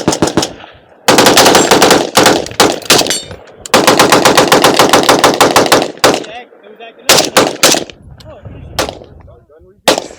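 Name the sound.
gunshots at a shooting range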